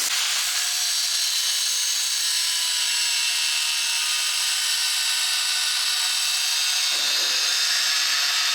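A power tool cutting off a piece of metal while a motor mount is made: a loud, harsh, continuous whine close by for the whole stretch, easing slightly just before the end.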